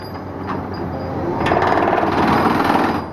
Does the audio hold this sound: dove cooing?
no